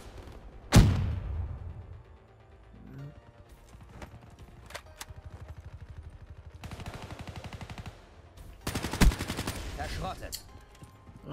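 Rapid-fire weapon shots in Call of Duty Black Ops 3 multiplayer: one sharp loud blast near the start, a few scattered pops, then a quick rattling burst of automatic fire and another loud volley near the end.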